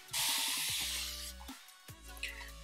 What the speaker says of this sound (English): I'm just gonna mist my face,